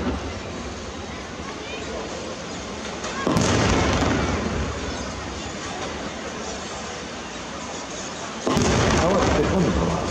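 Color ball fireworks burst at a commemorative festival display in Nagashima, two loud booms with rumbling tails arriving several seconds apart over a steady crowd and background murmur.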